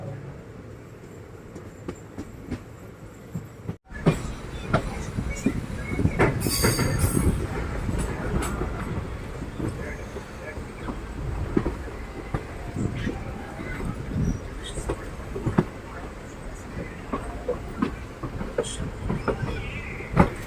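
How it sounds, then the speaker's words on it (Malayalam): A passenger train rolls along steadily, its wheels rumbling and clacking, with occasional squeals and metallic screeches as it slows into Mangaluru Central railway station. "നമ്മുടെ ട്രെയിൻ അങ്ങനെ അപ്പം മംഗളൂരു സെൻട്രൽ റെയിൽവേ സ്റ്റേഷനിലോട്ടാണ് ഇപ്പോൾ അത് എത്തിക്കൊണ്ടിരിക്കുന്നത്"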